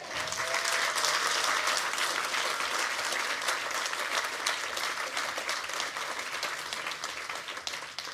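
Sustained applause from a seated audience at a yoga festival class with a Vedanta teacher, dense and loud at first and tapering slightly toward the end, with no talk over it.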